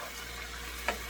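Bacon-fried cabbage seasoned with salt and pepper sizzles softly in a pan, and one brief stirring scrape stands out near the end of the steady hiss.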